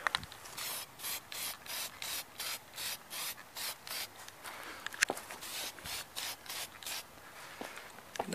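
A tack coat of paint being sprayed onto a vintage lawn edger under restoration: rapid short hissing bursts from a spray can or gun, about two per second, loud and close, with a few clicks between passes.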